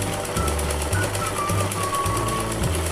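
Sewing machine running a short burst of stitching along the piping side of a sleeve, a rapid, even mechanical rattle heard up close and continuous, with no voices over it.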